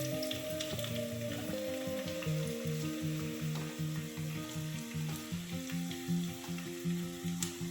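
Onions sizzle in hot coconut oil at the start of a crab masala curry. A soft, steady frying hiss sits beneath a prominent melodic musical backing.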